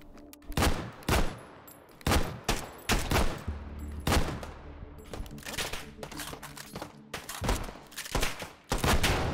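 Rapid bursts of gunfire from a tiny-magazine gun in the VR shooter H3VR, loud close cracks in quick clusters separated by short pauses, with a faint voice underneath.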